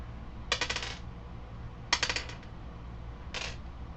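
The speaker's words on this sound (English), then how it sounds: "Me rolling dice." Dice rolling across a table in three separate bursts of rattling clicks, each about half a second long, with pauses between them, heard over a steady low hum.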